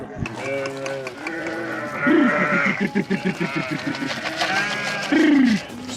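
Sheep and lambs bleat loudly and close by, several wavering calls over a busy background of milling animals and a voice.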